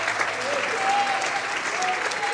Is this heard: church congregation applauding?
yes